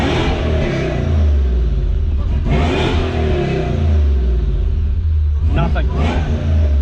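A supercharged Toyota 1UZ V8 in a Hilux revs hard up close, with repeated throttle blips and a deep droning rumble. Voices talk briefly over the engine noise.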